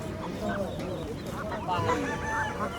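Clucking and honking calls of chickens and ducks, including hill chickens, scattered over a busy background at a village poultry market in Fatullah, Bangladesh, with people talking nearby.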